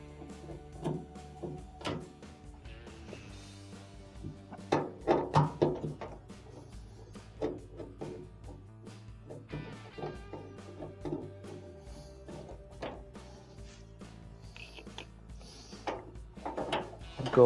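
Phillips screws being turned out of the door catch on an LG dryer, heard as faint intermittent clicks and small ratcheting, rattling mechanical sounds with scattered louder taps, close and with no speech.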